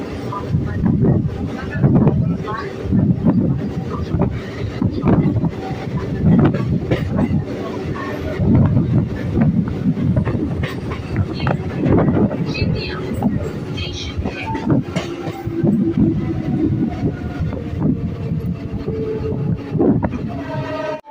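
A Katwa to Barddhaman passenger train on the Eastern Railway, heard from on board as a loud, steady rumble with clickety-clack wheel beats, wind buffeting the microphone and voices now and then.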